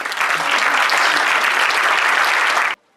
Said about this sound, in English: I just want you to just give her a round of applause.